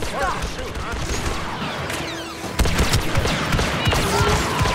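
Rapid blaster fire in a Star Wars Battlefront II campaign firefight, a dense stream of sharp energy shots that grows louder partway through, mixed with battle noise and talk.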